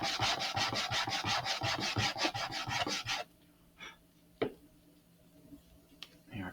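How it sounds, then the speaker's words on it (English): Rapid rhythmic scraping of sandpaper on a small Estes Great Goblin model rocket part that is coming apart, then it stops, leaving a few scattered taps and handling clicks. "They are coming apart as I'm sanding them"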